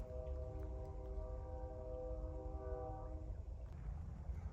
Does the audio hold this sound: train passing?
yes